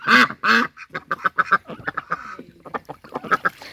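Pet ducks on a farm quacking loudly and close, a rapid series of harsh nasal calls with brief pauses between bursts.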